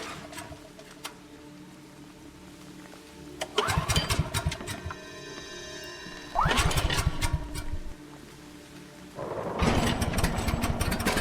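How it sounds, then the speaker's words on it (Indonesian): A generator is started in the horror game No Rest: three loud bursts of engine-like rumble and clatter, each cutting in abruptly over a quiet ambient background, with the last one continuing to run steadily. "Dan nyalakan generatornya."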